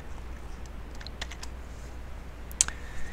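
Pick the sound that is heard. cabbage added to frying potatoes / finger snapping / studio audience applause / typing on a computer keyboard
typing on a computer keyboard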